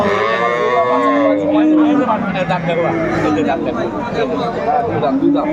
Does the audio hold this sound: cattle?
yes